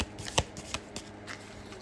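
A deck of tarot cards is shuffled in a few quick, soft riffling bursts and flicks, close and quiet, with no talking.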